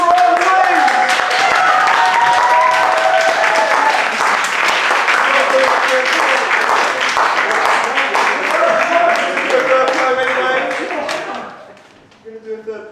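Loud, sustained applause from a poetry slam audience, with cheers and voices mixed in, fading out near the end as a few claps and talk remain.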